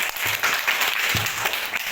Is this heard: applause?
yes